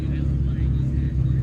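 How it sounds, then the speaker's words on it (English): A roughly 75-year-old classic Jaguar XK pulls up at an outdoor car show, its engine a steady, loud low rumble held throughout, with a crowd murmuring nearby. "Another Jaguar XK pulling up. Sounds pretty good too."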